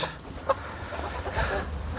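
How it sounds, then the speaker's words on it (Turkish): Chickens cluck softly in the background, a few scattered calls over quiet outdoor ambience, fairly faint and distant. "bu bölgede tavuklarımız da var"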